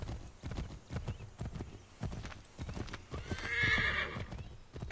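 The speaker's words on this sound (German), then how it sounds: "Reiten sie normal weiter, damit das Pferd wieder aufladen kann." A horse gallops in Assassin's Creed III, its hooves clip-clopping in a quick, steady rhythm close by, then a loud neigh rises near the end over the continuing hoofbeats.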